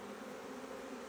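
Honeybees hum steadily in an opened Langstroth hive during an inspection, a dense, continuous buzzing drone at low level with no pauses.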